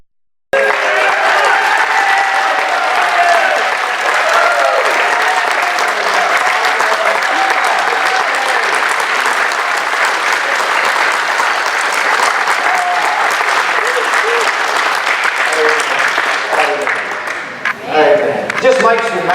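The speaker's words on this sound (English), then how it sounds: "give Josh a round of applause for serving us and also for singing." A church-style audience stands and applauds a singer, a loud, steady wash of clapping that holds for nearly twenty seconds before thinning near the end, with voices and cheers mixed in.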